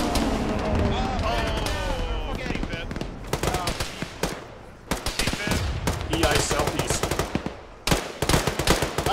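Machine gun fire in a military video game, with sustained rapid bursts and repeated short volleys that are loud and close, while someone talks over the gunfire in the first seconds.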